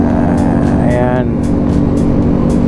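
Street traffic in Cotabato City: a steady, loud engine drone from a motorcycle ride, with a brief horn-like tone in the middle and constant road noise, and a voice talking over it.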